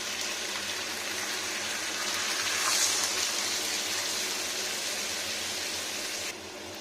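Water pours steadily into a pot of broccoli, kohlrabi and eggplant curry, a soft continuous gushing stream that swells slightly midway and then ends abruptly.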